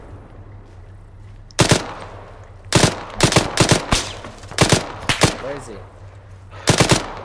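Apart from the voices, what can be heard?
gunfire in a video game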